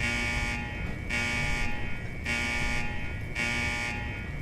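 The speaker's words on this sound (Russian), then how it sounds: "а можно пикалку выключить, а?" An electronic alarm buzzer in the Fallout 4 video game pulses on and off in a steady rhythm, about four long beeps over a constant droning hum.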